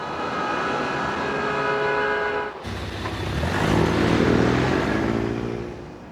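Cartoon train running steadily along the rails, a continuous loud rumble with a tonal hum that cuts abruptly partway through into a broader, heavier roar, with no talking.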